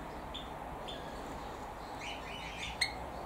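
A pet Java sparrow in an outdoor aviary gives a few short, bright chirps and tweets, spaced apart over a soft steady background hush, with one slightly louder call near the end.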